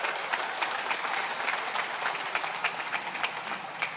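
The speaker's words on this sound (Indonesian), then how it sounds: "Tepuk tangan untuk mereka." Scattered hand clapping from a crowd at a religious gathering honours teenagers, a moderate, somewhat distant patter of claps with uneven individual slaps standing out, steady for a few seconds.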